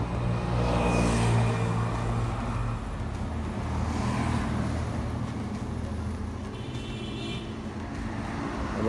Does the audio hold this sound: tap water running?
no